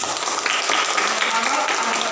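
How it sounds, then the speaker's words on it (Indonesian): A classroom of students claps for a classmate named Renol, a brief burst of applause overlapping with a voice speaking over it. "tepuk tangan untuk Renol"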